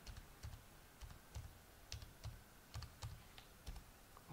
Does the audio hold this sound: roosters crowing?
no